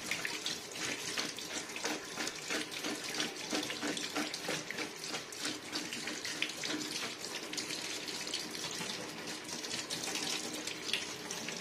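Chopped elephant foot yam being washed under a running kitchen tap, a continuous close splashing rush of water with irregular spatters as the pieces are rinsed, no talking.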